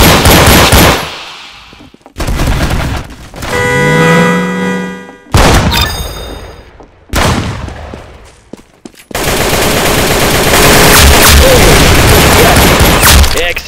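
Gunfire in a Roblox video game plays as loud, dense bursts of automatic shots and booms in repeated bursts, with electronic tones between them and a long sustained barrage at the end.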